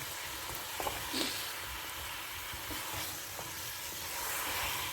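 Steam hisses and sizzles steadily from handi chicken cooking in a nonstick handi pot, a bright continuous fizz with faint stirring clinks beneath it.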